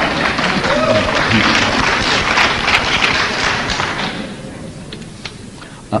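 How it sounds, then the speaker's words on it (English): Crowd applause from a lecture audience that includes school administrators, a thick burst of clapping mixed with murmuring voices, loud at first and then thinning out and fading after about four seconds. "applause from some, angry murmurs from the school administrators that are in the audience"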